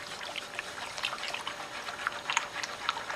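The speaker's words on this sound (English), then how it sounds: "We've got water inside our metal tray right here, and we're going to pour in our Snow Reel and stir it." Snow Real powder is poured into water in a metal tray, giving a steady soft trickling, hissing pour that runs throughout, close and moderately quiet, with no voices.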